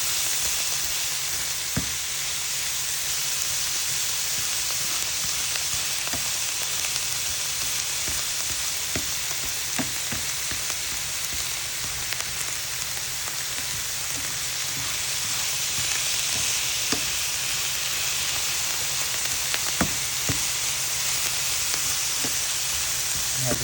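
Curry powder and turmeric sautéing in a hot pan, a continuous close sizzle and crackle with occasional sharper pops and light stirring clicks throughout.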